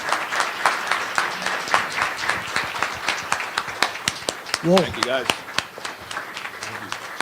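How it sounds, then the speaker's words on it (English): A Galveston Chamber forum crowd gives a round of applause for Texas state representative candidates, sharp distinct claps close by for several seconds while a voice speaks briefly over them. "Let's give all these candidates a big round of applause"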